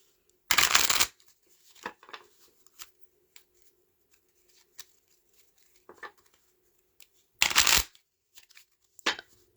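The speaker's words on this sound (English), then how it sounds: "I'm gonna shuffle while we wait to see what chat has to say." Two bursts of tarot cards being riffle-shuffled, crisp and close, with light card handling and small taps in the quiet between them.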